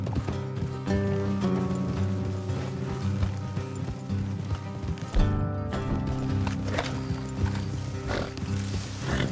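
Galloping horse hooves in Red Dead Redemption 2 give a rapid, continuous clip-clop over a low rumbling game soundscape, with a brief jolt midway before the steady hoofbeats carry on.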